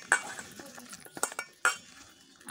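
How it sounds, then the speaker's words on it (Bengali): Mango pieces being mixed by hand with spices and mustard oil for a pickle, with a few soft squelching stirs and light clinks against a bowl, fairly quiet with short gaps between. "আমটাকে সুন্দর করে দিয়ে মেখে নিচ্ছি।"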